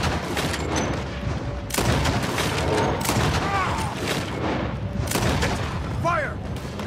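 Sustained gunfire from a shootout in Red Dead Redemption 2, dense bursts of shots and booms filling the scene, with game voices talking over the battle.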